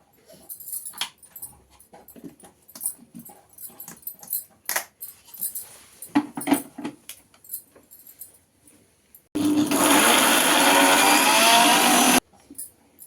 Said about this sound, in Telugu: నూనె వేసి మిక్సీ చేయాలి